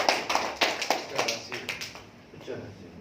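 Scattered audience clapping at a Malay-language business presentation: a few irregular, sharp claps in quick succession that thin out and fade after a couple of seconds, with faint room noise behind.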